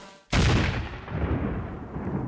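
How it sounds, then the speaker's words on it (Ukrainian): A kamikaze ground drone detonates on an enemy position in a single sudden, heavy blast, with a deep booming roar that rolls on and slowly fades over the next two seconds, with no voices. "це наземний дрон Камікадзе. І прямо зараз він робить те, що для людини точно квиток в один кінець. Вибухівка буквально заїжджає на ворожу позицію."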